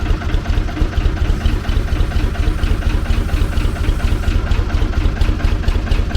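A heavy Sandersons offroad forklift engine idles steadily nearby at set revs, its low, even chugging pulsing at a constant rhythm without any talking.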